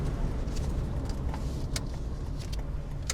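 Steady road noise and engine hum from inside a small Kei van driving through town and making a U-turn, with a continuous close cabin drone and a few faint clicks and rattles, with no talking.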